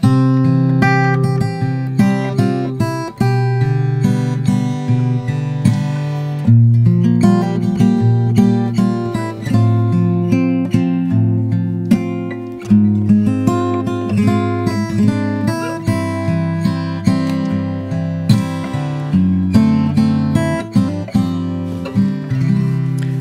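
A melody is picked on an acoustic guitar, close and clear, notes plucked one after another over sustained bass tones with no talking.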